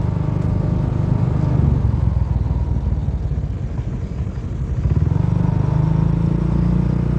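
A Honda Vario 150 scooter fitted with a local asbestos-packed aftermarket exhaust idles and runs steadily close by, giving a continuous low rumble with a slight rise and fall in loudness and no talking.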